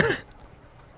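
A single short human cough bursts out at the very start, close and fairly loud, then the room falls quiet.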